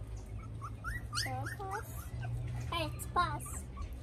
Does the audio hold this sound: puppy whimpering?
yes